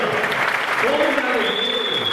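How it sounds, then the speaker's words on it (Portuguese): Steady, dense clapping from a church congregation at a Sunday service fills the whole stretch, with voices and shouts mixed in over the applause. "Aplaude melhor, igreja."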